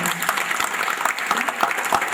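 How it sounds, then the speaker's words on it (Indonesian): Church congregation applauding for God during a worship service, a loud, dense and close burst of many hands clapping, unbroken across the short span. "Tepuk tangan buat Tuhan."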